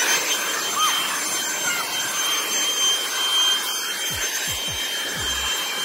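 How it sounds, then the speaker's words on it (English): A handheld vacuum cleaner running steadily inside a truck, a continuous broadband whirring hiss with faint rubbing and a few low thumps near the end. "I just vacuumed my truck in like 5 seconds"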